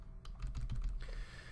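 Rapid typing on a computer keyboard during play of an 8-bit Steve Davis Snooker game, a quick cluster of close, soft key clicks that stops about halfway through, leaving a faint hiss.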